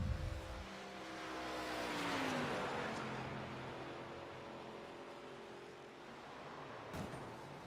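Race car engine revving and shifting through gears on a hot lap in a racing simulator game, a steady continuous drone that rises and falls in pitch with upshifts, with no talk over it.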